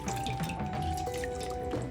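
Water drips and trickles from washed Beyerdynamic DT series fuzzy headphone ear pads being squeezed out, a quiet close patter of small drops with no talking.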